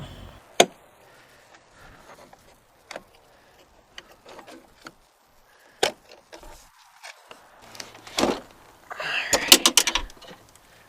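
Sparse clicks, knocks and plastic clatter of trim being worked loose from a 1997-2003 Audi A8 Quattro door panel, with scattered sharp snaps and a busier burst of rattling near the end.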